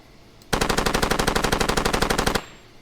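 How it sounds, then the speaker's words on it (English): A .50 cal machine gun fires in Far Cry 2 as one loud, rapid, unbroken burst of about two seconds, the close evenly spaced shots ending abruptly in quiet. "I think this is 50 cal."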